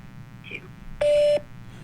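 A phone on speakerphone dials out during a scam-caller check, giving a single loud steady tone of about half a second after a faint brief beep, alone with no talk.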